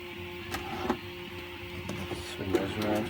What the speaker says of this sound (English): What I'm printing at the moment is just the strut bar